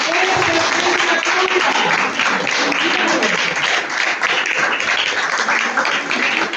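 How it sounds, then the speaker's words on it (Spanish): Church congregation applauding together, steady dense clapping filling the whole stretch, loud and close with voices mixed in. "¿Le puede dar un aplauso al Señor?"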